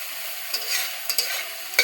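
Tilapia fish pieces frying in oil in a pan, a continuous bright sizzle with a few quick utensil scrapes, close and alone.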